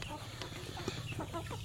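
Broiler and free-range crossbred chickens, white-headed and white-necked, clucking softly in a continuous low murmur of several birds close by, with occasional sharper calls standing out.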